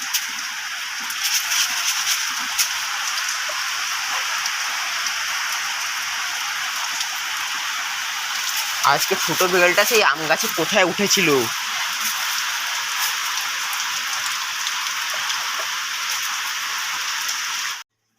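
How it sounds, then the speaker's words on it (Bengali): Heavy rain falling outside a house, a steady broad hiss of downpour on surfaces that runs throughout, with a person speaking briefly partway through. "বাইরে হচ্ছে প্রচুর বৃষ্টি"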